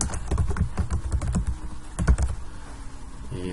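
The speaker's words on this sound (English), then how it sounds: "I'll type it in" Rapid typing on a computer keyboard, a steady run of close key clicks that slows near the end, with no talking.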